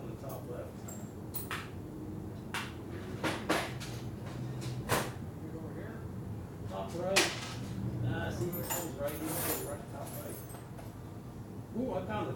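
A washer drawer in a workshop where a 1957 Harley panhead drag bike is being built is pulled open and rummaged, bringing sharp metallic clicks, clatters and rattles of small parts at irregular intervals, close by, with people talking.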